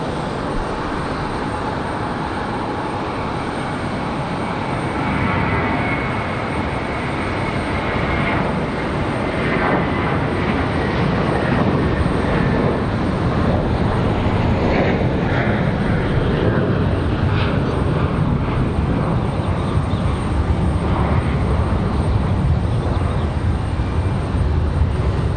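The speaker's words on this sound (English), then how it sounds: "So the A321 off to Charlotte." An American Airlines Airbus A321 departs Raleigh-Durham for Charlotte, its jet roar swelling and holding loud and broad, with no one speaking.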